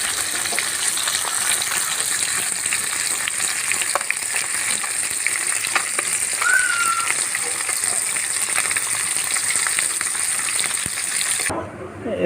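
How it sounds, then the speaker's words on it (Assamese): Fish sizzles in hot oil in a wok as it fries until reddish, a loud, steady crackle running throughout, with occasional stirring scrapes and a brief drop near the end. "মাছটো এনেকুৱাকৈ ৰঙচুৱা কৰি ভাজি ল'ব"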